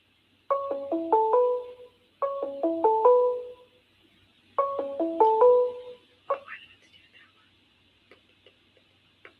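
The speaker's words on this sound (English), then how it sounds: "That's the same phone call that's been calling like 3 times." A phone ringtone from a repeated incoming call: three bursts of a descending multi-note electronic melody with short gaps, then a brief chirp, fairly quiet and alone.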